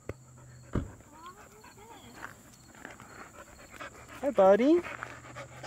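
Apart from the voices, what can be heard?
dog panting nearby in an abandoned ghost town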